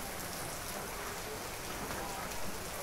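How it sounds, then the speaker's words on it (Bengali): Heavy morning rain pours down in a dense, even hiss with no pauses, loud and close, filling the whole stretch. "প্রচণ্ড পরিমাণের বৃষ্টি নামছে আজকে সকালে, এখনো বৃষ্টি পড়তেছে"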